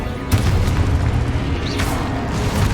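A Confringo fire spell blast in the video game Hogwarts Legacy: a loud booming burst, then a rumbling low roar with a second crackling flare, heard alone and close.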